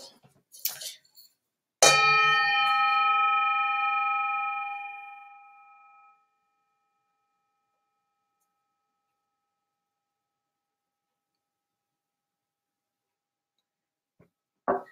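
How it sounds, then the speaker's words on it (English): A dragon singing bowl is struck once and rings with a bright metallic tone that hangs for a few seconds and fades to silence, with brief rustling before and after. "This is one of my dragon bowls."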